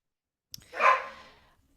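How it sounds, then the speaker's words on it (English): A single bark from a dog at home during an online conversation, one short, sharp yelp that rises and fades quickly, heard alone and fairly close. "it lands quite well for my dogs that have decided that now is the time to bark"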